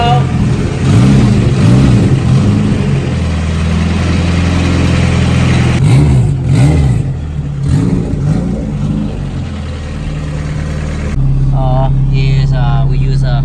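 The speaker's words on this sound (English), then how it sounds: "And turbo car sounds sick." A Honda Integra GSR with a turbocharged B18C1 engine runs loud and close, rising and falling through repeated revs over a steady idle, with a voice talking over it at times.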